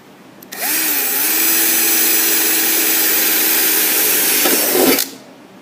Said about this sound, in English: I'm going to take and I'm going to drill through